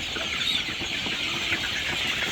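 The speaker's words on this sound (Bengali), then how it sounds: "খাবারের পিছনে পিছনে মুরগিগুলা" A flock of chickens clucks and murmurs continuously nearby, a dense, steady chatter of overlapping calls with no talking.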